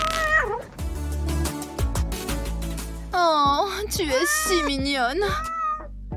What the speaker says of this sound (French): Viens ici, Minou Minou.